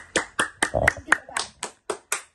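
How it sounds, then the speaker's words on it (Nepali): A small group claps hands in a quick series of about ten sharp bursts during a puzzle game challenge, with a brief voice in the middle, each clap close and distinct. "सबैले ताली बजाइदिनु"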